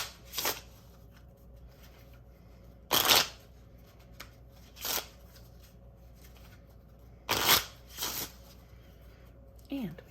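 Several brisk riffling bursts of cards being shuffled, spaced a couple of seconds apart, with quiet pauses and faint background noise between them.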